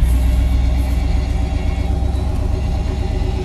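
A 1969 Chevy engine idles in a continuous deep, loud rumble with a steady throbbing pulse, close up and with no other sounds over it.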